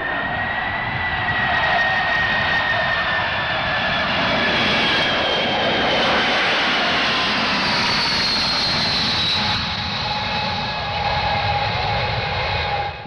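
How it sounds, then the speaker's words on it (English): Vickers VC-10 jet airliner making a very low pass at an air pageant, a loud sustained jet roar with whining engine tones that shift in pitch as it sweeps by. "The spectacular VC-10 flying at 0 feet."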